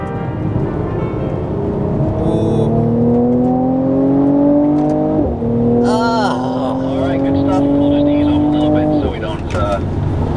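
A Mercedes-AMG C43 with 4MATIC all-wheel drive laps Sepang race track at night, its engine loud and near, rising repeatedly through the gears with shift dips and brief crackles, while someone talks over it.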